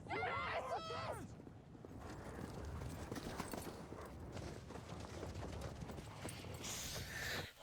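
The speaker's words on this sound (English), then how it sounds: "horses! Horses!" Horses galloping, heard from The Last of Us season 2 episode 2 playing in the background, a rhythmic clip-clop of hooves mixed with the show's music and voices, fairly quiet.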